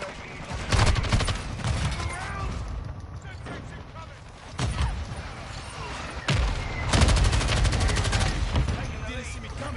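Bursts of battle rifle gunfire in Call of Duty: Modern Warfare II rattle off in rapid volleys, loud and close. Between the bursts come brief pauses and distant battlefield booms, and a voice talks intermittently.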